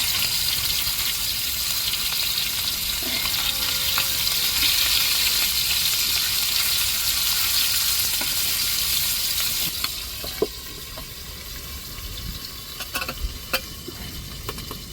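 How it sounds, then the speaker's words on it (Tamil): Squid pieces sizzle on a hot oiled dosa griddle, a loud, continuous frying hiss up close that eases slightly partway through, with a few sharp scraping clicks near the end and no talking. "இப்போ நம்ம விரவி வச்ச கணவாயை அள்ளி தோசைக்கல்லில் போடுவோம்"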